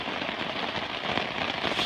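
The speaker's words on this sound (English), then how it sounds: "pouring rain, straight down rain" Heavy rain pours straight down at Olmsted Pond in a dense, even hiss of drops striking the ground and water, constant and close.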